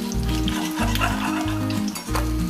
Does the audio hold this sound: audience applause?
no